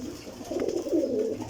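Pigeons coo steadily in a breeder's loft of flying pigeons in Jhelum, a low continuous murmur of overlapping throaty calls close by, with no talk.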